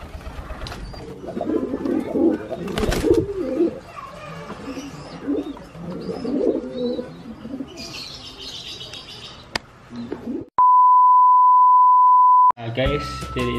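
Domestic pigeons coo and flutter at their loft, soft low cooing and occasional wing flaps close by, followed by a steady electronic beep tone near the end.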